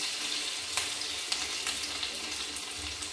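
Banana flower pakoda frying in oil over a low flame, a steady bright sizzle with occasional small pops, close and quiet, with no talking.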